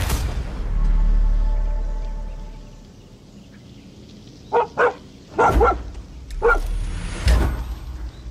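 Boom Boom the dog in Far Cry 6 gives a run of sharp, close barks, two quick yaps, then a louder cluster and a final bark, after a stretch of low rumbling ambience.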